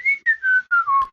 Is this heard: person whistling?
yes